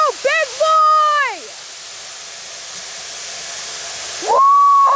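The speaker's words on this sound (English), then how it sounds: "Right here, the biggest steam train ever." Union Pacific Big Boy 4014 steam locomotive hissing steadily up close, a loud continuous rush of steam with shouting voices at the start and end.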